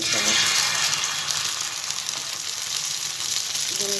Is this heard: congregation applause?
no